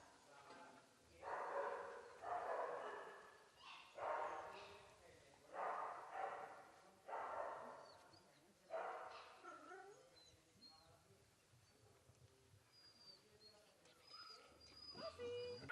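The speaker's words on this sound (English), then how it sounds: "So here we've got all the Camino dogs." Kennel dogs bark and whimper in repeated bursts, loud and fairly close, then quieter yips and whines, with faint human voices in the background.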